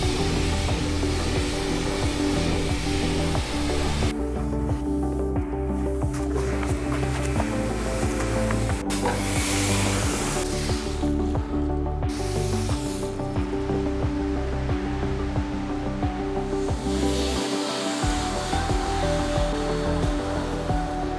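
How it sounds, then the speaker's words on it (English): Fans run steadily in a car detailing shop, producing a loud, continuous rushing drone that fills the space, with shifting airflow noise and occasional clunks in the background. "We have fans going, so it's a little loud."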